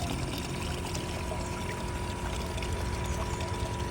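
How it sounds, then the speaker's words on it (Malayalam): About 750 ml of paint thinner pours steadily into car clear coat paint, a continuous gurgling, splashing stream heard up close without pause for the whole few seconds. "ടിന്നർ നമ്മൾ ഒരു മുക്കാൽ ലിറ്റർ ടിന്നറാണ് നമ്മൾ എഴുന്നൂറ്റമ്പത് എം എൽ ആണ് നമ്മൾ ഒഴിച്ചു കൊടുക്കുന്നത്"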